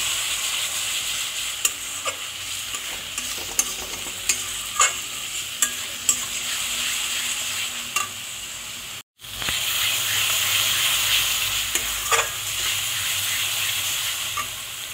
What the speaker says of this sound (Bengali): অল্প অল্প জল দেব আর কষাবো, যাতে মশলাটা পুড়ে না যায়।